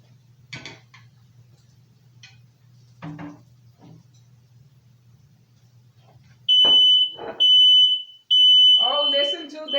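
A kitchen smoke alarm set off by cooking smoke gives three loud, sharp, evenly spaced beeps, coming after a stretch of quiet low hum and a few soft knocks, with a person speaking briefly at the end.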